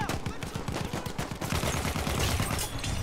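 Rapid bursts of gunfire from a Battlefield 1 match, steady and close, with dense overlapping shots throughout and a loud rumble building toward the end, a voice faintly mixed under the shooting.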